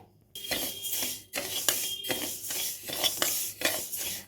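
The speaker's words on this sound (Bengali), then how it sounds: "মুগ ডালটাকে হালকা কড়াইতে আমি একটু ভেজে নেব হালকা করে" Mung dal being dry-roasted and stirred in a kadai, a spoon scraping across the pan in steady, repeated strokes with short gaps between them, close and fairly loud, with no voices.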